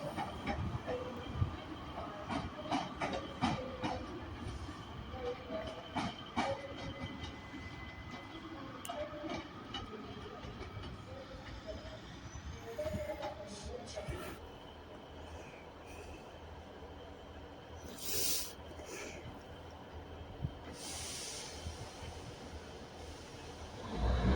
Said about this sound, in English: There goes 156-447 Northern service.